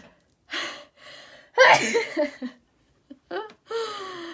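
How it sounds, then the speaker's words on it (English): A sharp gasping intake of breath, then a burst of breathy, sneeze-like exhalations and snorts, close and fairly loud, with short pauses between. "I feel like I have to sneeze"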